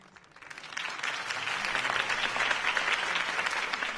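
A crowd applauds after a mayoral campaign speech in a Batman video game, the clapping rising quickly from quiet to a steady, moderately loud patter that holds to the end.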